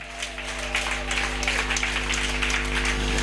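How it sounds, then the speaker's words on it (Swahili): A church congregation claps hands steadily, a dense continuous wash of many hands under a droning hum, with little talk. "Pigia Bwana makofi mazuri, piga mikono."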